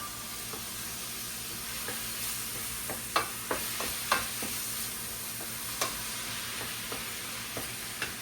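Steady sizzling from a hot pan with scattered soft clicks and pops, faint and continuous, no voices.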